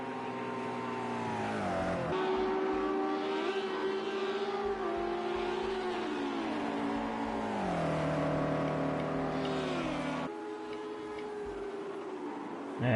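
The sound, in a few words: race cars warming up tires in video game Project CARS 2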